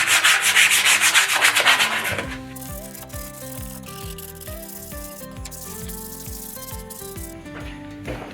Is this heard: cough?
no